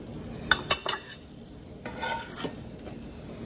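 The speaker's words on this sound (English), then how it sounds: "we're going to toast this right quick" Bread toasts in a hot pan with a soft sizzle underneath, broken by a few sharp scraping and clinking strikes of a utensil against the pan early on and lighter taps later.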